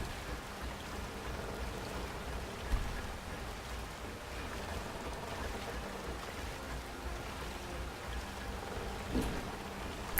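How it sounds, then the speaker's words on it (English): Steady rain falls in a fantasy video game, a constant close hiss of drops with a couple of faint thuds. "Well, it's raining, you genius."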